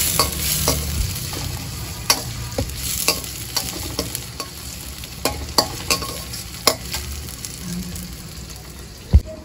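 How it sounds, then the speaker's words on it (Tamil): Ingredients for a sweet crab gravy sautéed and stirred in a pan, with steady frying sizzle and repeated sharp scrapes and clinks of a spoon against the pan, close and continuous with no talk. "இப்போ இது வதங்கின உடனே இதில் போட்டு வதக்கணும்"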